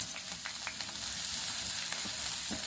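Pieces of ivy gourd fry in hot oil, a bright, dense sizzle with soft crackles, heard close and steady for a couple of seconds with no voices.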